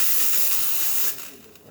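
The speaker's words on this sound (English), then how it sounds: "So now we're going to test the steam." The steam wand of a Lucca M58 espresso machine, just tuned up, hisses loudly and steadily, then drops off sharply to a softer sputter near the end.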